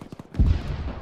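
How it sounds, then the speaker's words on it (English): In Arma, a tank round impact lands as a sudden deep thump with rumbling tail, preceded by a few quick distant pops, moderately loud and unaccompanied by talk. "That was a tank round."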